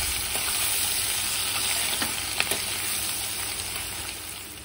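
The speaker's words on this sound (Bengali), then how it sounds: "তো দেখতেই পাচ্ছ পেঁয়াজ ভাজা হয়ে গেছে" Onions fry in a pan with a steady, close hiss of sizzling oil, a couple of brief stirring clicks midway, and no voices.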